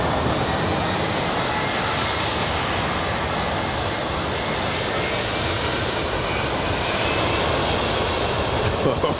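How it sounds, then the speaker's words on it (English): Roar of a Boeing 787 Dreamliner's twin jet engines at LAX airport, a steady, loud broadband rush holding throughout with a faint whine above, heard alone without talk. "Oh, I'm hearing them. Couple of Sim 6 engines."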